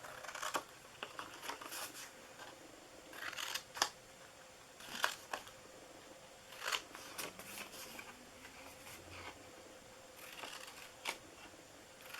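Scissors snip through scored paper while an Easter basket treat box is being cut out, quiet, close crisp cuts in uneven bursts with pauses between, over faint room noise.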